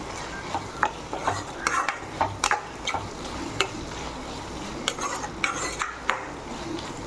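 Okra masala being stirred in a pan, a spoon scraping and knocking against the metal in irregular strokes over a soft, continuous sizzle.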